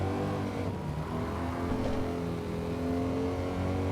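Engine of a car in the Gran Turismo 7 video game accelerating hard in first gear, a steady loud revving drone holding high throughout with no talk.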